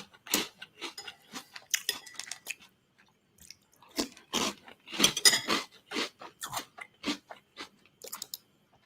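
Crunchy cereal is chewed up close in an ASMR mukbang, with crisp, irregular bursts of crunching and biting separated by brief quiet gaps and no talking.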